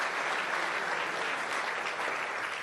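Sustained applause from union workers at a rally in Windsor, a dense steady clapping crowd filling the whole stretch at an even loud level with no breaks.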